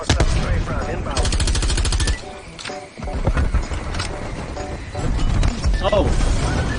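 Loud rapid-fire strafing gunfire from a hostile strafe run in the Call of Duty: Black Ops Cold War video game, bursts of rattling shots with crashes and game noise, voices talking over it.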